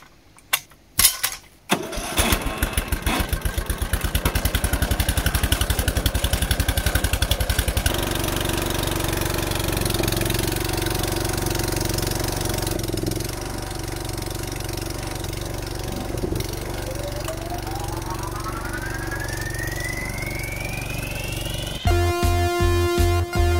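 Stiga Park 100 B ride-on lawn mower engine cranking and catching, then running loud and steady close by. A rising whine joins in later, and a rapid, chattering idle comes at the end.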